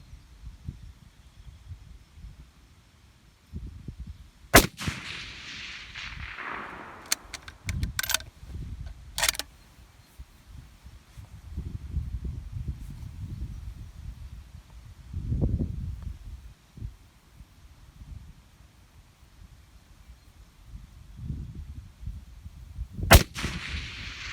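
Rifle shots from a Cadex rifle chambered in .308 Winchester, fired outdoors at a distant target: a few sharp, loud cracks spaced far apart, with rumbling wind and handling noise in between.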